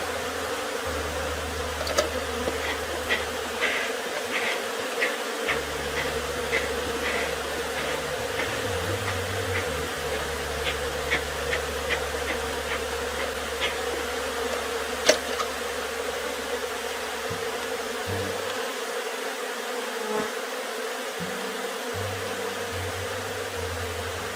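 Honeybees drone at an open hive during a frame inspection, a steady close buzzing hum that swells and dips as individual bees fly past, with no talk over it.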